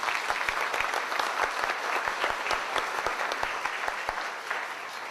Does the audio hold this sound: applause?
yes